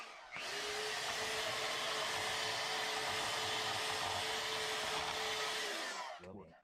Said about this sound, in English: if you cut it off with a bandsaw, it cuts clean through the threads